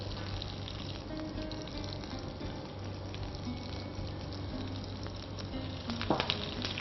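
Onions browning with curry leaves in a pan for a Kerala-style fish curry give a steady frying sizzle, with a short louder burst near the end, and no talk over it.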